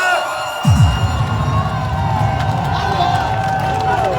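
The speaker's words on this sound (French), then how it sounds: "Est-ce qu'on peut faire un maximum d'acclamation pour notre bâtisseur" A crowd at an outdoor political rally in Omboué roars into loud, sustained cheering and whooping, bursting in sharply after a brief lull and holding steady throughout, with shouts and babble mixed in.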